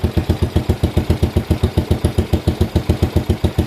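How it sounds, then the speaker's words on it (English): Freshly reassembled Postie bike motorcycle engine idling low and steady, with an even, rapid thumping beat, loud and close, no other sounds. "It's idling nice and low."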